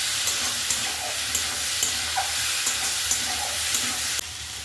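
Onion and tomato sautéing in a pan for a Bengali kathkoi fish gravy, giving a continuous close sizzle and hiss. A spatula scrapes and stirs at a regular rhythm, with no talking.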